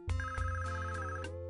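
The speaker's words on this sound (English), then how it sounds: "Phone call." A telephone rings in the Police Quest video game: a short electronic ring of bright, repeating tones, clear and alone.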